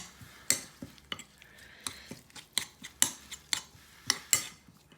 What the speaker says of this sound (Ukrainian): Солі дали, олійки дали, чесночку дали, мішаємо.